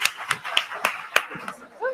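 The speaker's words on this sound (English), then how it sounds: "another round of applause for Marla" A handful of audience members clap in sparse, separate sharp claps rather than a full ovation, each strike distinct and fairly close.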